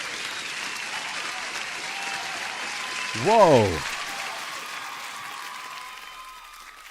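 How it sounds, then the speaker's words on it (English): A crowd cheers and applauds steadily at a live day-trading stream celebration, a broad wash of noise swelling briefly as a voice exclaims, then fading toward the end. "The crowd is cheering."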